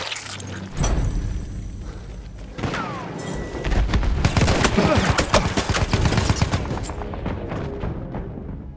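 Rapid gunfire and booming explosions in the video game Battlefield 1942 pile up into a dense, continuous barrage, with thuds and bursts overlapping, loud throughout before tapering off.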